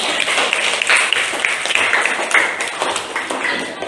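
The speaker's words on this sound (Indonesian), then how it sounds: "Beri tepuk tangan" A classroom full of children claps in a steady, dense patter for a student, with a few voices mixed in behind the clapping.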